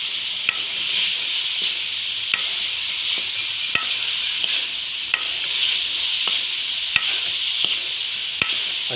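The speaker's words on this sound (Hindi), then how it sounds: "अच्छी तरह इसको मिक्स करना है मसाले में और फ्राई करना है।" Chopped capsicum frying in masala in a pan, a steady loud sizzle with regular spoon scrapes and clinks as it is stirred, close up and without talking.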